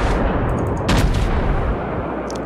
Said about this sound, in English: There go all four guns.